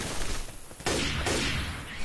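Shotgun blasts from Left 4 Dead 2 ring out in a co-op carnival level: loud broadband bursts, with a sharp shot near the middle and another close behind, over dense, noisy game action.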